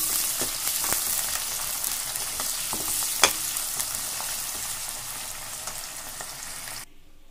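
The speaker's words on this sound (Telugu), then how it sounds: "బాగా ఇట్లా కలర్ వచ్చేంత వరకు ఫ్రై చేసుకోవాలి." Chopped garlic and onions sizzle steadily in hot oil with bay leaves in a pan for chicken keema curry. A loud, even crackle runs throughout, broken by occasional stirring clicks and one sharp knock, then stops abruptly near the end.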